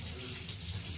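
Water runs from a kitchen tap in a steady, close, even gush with no pauses and no voices.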